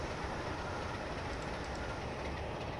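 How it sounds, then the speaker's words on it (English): Train rolling along rails during coupling on the West Coast Main Line, a steady loud rumble with rhythmic clickety-clack and faint high squeals from the wheels, no voices. "We're coupling to this train right here."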